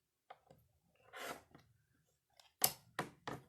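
Scissors trimming paper for a craft project, a few sharp close snips and crisp cutting strokes separated by quiet pauses, faint overall with no talking.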